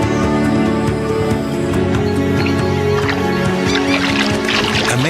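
Birds in the Amazon rainforest give repeated honking, goose-like calls over a dense, steady, layered background. The calls are loud and close, with no speech.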